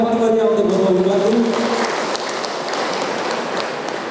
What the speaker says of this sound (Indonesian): Boleh kita berikan tepuk tangan yang paling meriah untuk Bapak Bupati.